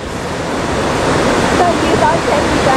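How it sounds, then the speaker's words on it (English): Steady, dense rushing water fills the scene, a constant roaring wash close by with a faint voice briefly surfacing. "The double waterfall action here."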